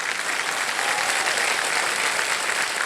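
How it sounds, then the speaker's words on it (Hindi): A quiz show's studio audience claps for a contestant in a thick, continuous round of applause. The clapping stays loud and steady for about three seconds. "बहुत बहुत बधाई आपको, तालियां बच जाए इनके लिए"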